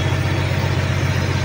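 An Aichi 5-ton crane engine idles at low throttle during load testing, giving a steady, close, low droning hum that holds evenly throughout without rising or falling.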